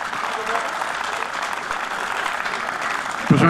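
An audience claps for a band at a live concert, a steady dense wash of applause at close range that holds evenly throughout, with a voice briefly heard near the end.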